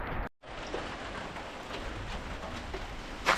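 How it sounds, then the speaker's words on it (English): Heavy rain mixed with hailstones pours down at a village homestead, a dense, steady hiss of drops and pelting ice with a brief dropout near the start and a sharper burst of impacts at the end. "This is the situation right now in village. It rained hailstone."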